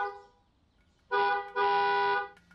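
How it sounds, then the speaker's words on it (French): A car horn honking twice, two loud, steady tonal blasts close by, the second longer than the first, after a faint trailing tone and quiet background. "Et il klaxonne"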